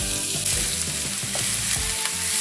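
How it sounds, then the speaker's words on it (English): Half an onion hits butter browning in a pan for corned beef hash, giving a loud, steady sizzle throughout with repeated soft stirring bumps and scrapes, no voices. "And I'm gonna put in maybe half this onion."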